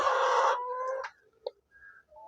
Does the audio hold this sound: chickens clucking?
yes